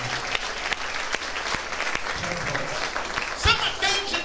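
Church congregation at a convention applauding and cheering, dense sustained clapping across a large crowd, with a voice speaking over it and a louder burst near the end.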